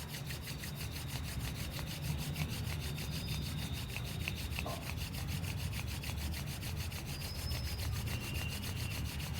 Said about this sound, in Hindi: फिर से एक बार अपने हाथों को रब कर लीजिएगा